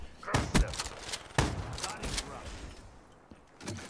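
Gunfire in Black Ops 3 comes as a few sharp, close shots in quick clusters, with a voice talking faintly underneath.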